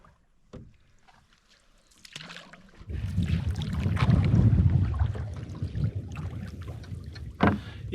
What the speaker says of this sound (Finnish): Ihan kohtalaisen kovaa tuulta lännestä ja vastatuulta